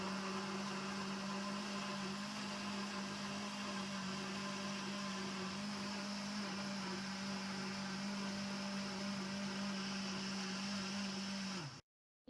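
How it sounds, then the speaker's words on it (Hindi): A kitchen blender whirs at a steady high pitch, loud and close, while blending a banana milkshake with rose water, then cuts off abruptly just before the end. "अब मैं इसको ब्लेंड कर लूँगी।"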